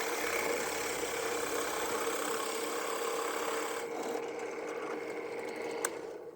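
A drill press runs steadily while it bores holes in a clamped workpiece, giving a continuous motor hum and whir. The sound eases partway through as the bit finishes its cut.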